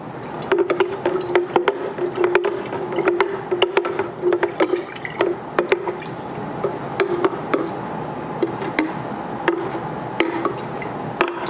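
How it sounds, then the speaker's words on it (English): Liquid being stirred inside an iGulu F1 home brewing machine, close, wet sloshing and clinking with a steady hum underneath, irregular swishes repeating throughout. "I will give that another stir."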